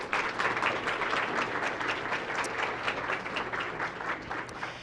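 Audience applause at a fall college convocation, a dense, steady patter of many hands clapping throughout, fairly distant and even in loudness with a faint hum beneath.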